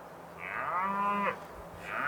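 A single long, drawn-out moo from a cow near a dirt tank out in open country, loud and close, with a short quiet gap before another call begins.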